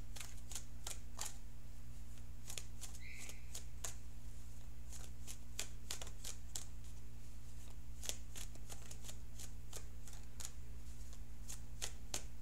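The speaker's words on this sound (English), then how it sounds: "now I'm going to shuffle for an outcome card." Tarot cards are shuffled by hand, producing a run of crisp riffling snaps in an irregular rhythm, close and fairly soft over a steady low electrical hum.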